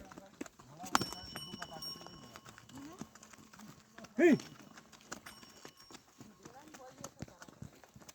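Irregular clopping of horse hooves on a hard surface, with voices talking nearby and a sharp louder knock partway through.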